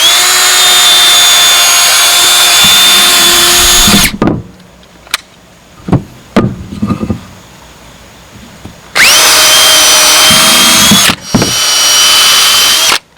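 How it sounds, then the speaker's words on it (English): A loud power drill whines steadily for a few seconds drilling holes in a wooden rabbit nest box, pauses amid some knocks and handling, then runs again in two strong bursts. "So I'll just drill a couple holes in here."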